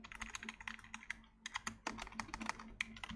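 Fingers type on a computer keyboard during game coding in Unity, producing quick clusters of crisp key clicks with a brief pause midway, close and moderately quiet.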